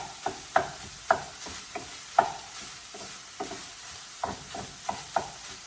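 Half a cup of onions cooks in a pan, a soft sizzle beneath a series of sharp spatula taps and scrapes at an uneven rhythm, close and fairly quiet.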